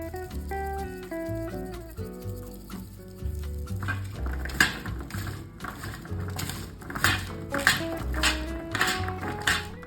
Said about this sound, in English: we are mixing 2 tablespoons of olive oil and some salt with 2 cubed